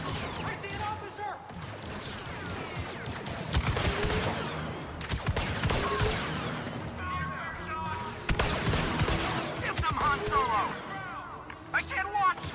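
Blaster fire during a Star Wars Battlefront II campaign battle, bursts of laser shots, crashes and mechanical clatter in clustered volleys, with voices talking over the combat.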